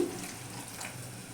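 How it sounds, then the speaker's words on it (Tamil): About three quarters of a tumbler of water poured into a pan of kothavarangai kara kuzhambu with tamarind and masala, a faint brief splashing trickle, close and quiet. "முக்கால் டம்ளர் தண்ணி ஊற்றிருக்கேன்"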